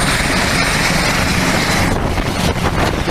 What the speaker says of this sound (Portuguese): Em particular sobre um helicóptero, que é esse helicóptero que está aí.